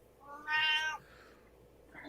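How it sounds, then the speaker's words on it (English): A cat gives one clear, drawn-out meow close by, lasting under half a second against quiet background hum, followed by silence. "They're fighting like literal cats and dogs over there."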